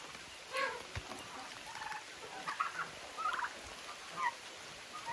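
A few scattered turkey gobbles and calls come from birds standing outside in the rain on their run, moderately distant and separated by pauses over a constant wet hiss.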